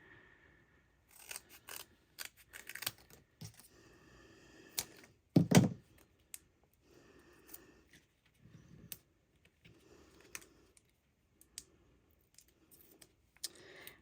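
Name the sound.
cutting strips of foam sheet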